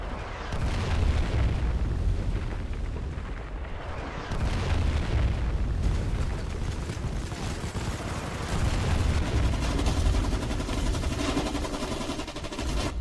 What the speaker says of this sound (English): Just as the Warden railstorm cannons resumed their bombardment, they left massive craters within our base